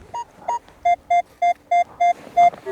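A metal detector sweeping over a field gives a run of about nine short, evenly spaced electronic beeps, clear and close, with a slightly different tone at the start and end.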